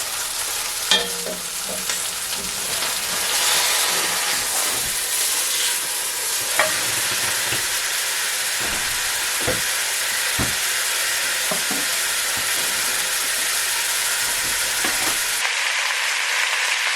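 Roast beef sizzling in a pan as it is flipped, a loud steady frying hiss with scattered scrapes and clicks, then an abrupt drop partway through near the end.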